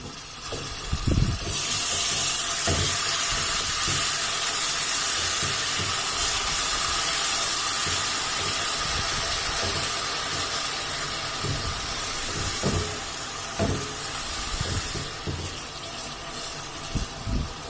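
Garlic-ginger paste fries in desi ghee in a pan for a Pakistani-style sarson ka saag, giving a continuous loud sizzling hiss that holds steady throughout, with occasional soft clinks and scraping from a utensil.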